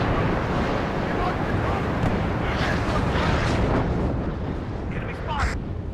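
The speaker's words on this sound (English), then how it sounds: "See how much damage this artillery does." Artillery and mortar shells burst in the Cold War real-time strategy game WARNO, a dense, continuous rumble of blasts with a brief whistling tone near the end, heard under faint talk.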